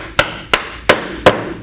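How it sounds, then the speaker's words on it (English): Hammer tapping wood while fitting dovetail joints, four evenly spaced, sharp, close blows, each with a short ring-off. "hammer"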